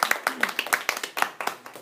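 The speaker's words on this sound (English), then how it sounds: "Let's give them a round of applause." A small audience claps after a persuasive speech by Elizabeth, a run of separate, distinct hand claps close by, sparse and uneven, with a voice briefly heard among them.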